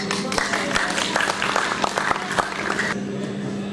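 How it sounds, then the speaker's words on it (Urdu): Applause at a mushaira in Sialkot greets a poet as he comes up, with steady dense clapping filling the hall and a host's voice carrying over it before the clapping drops away near the end. "بھرپور تالیوں سے استقبال کیجیے"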